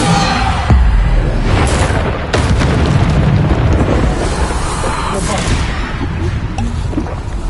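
Bombarda spell blasts in Hogwarts Legacy, a dense run of booming explosions and impacts layered over continuous battle noise, with a voice speaking through the din.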